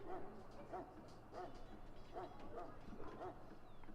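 A dog in Dragon Age: Origins gives a run of short whimpering yips and soft barks at a steady pace, with voices talking faintly alongside.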